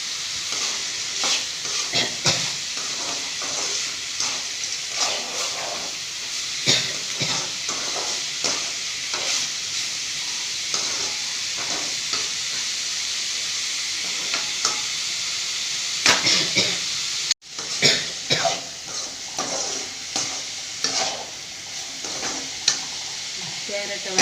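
Chopped carrots with salt stir-fry in a home kitchen pan, a steady sizzle with repeated scraping stirs throughout, a brief cut partway, with occasional faint talk.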